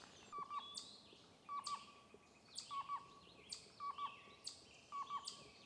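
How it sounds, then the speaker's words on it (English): Black-billed cuckoo calling in the distance, a faint repeated hollow call sounding roughly once a second, with other birds chirping and whistling over a quiet outdoor background. "Black-billed cuckoo."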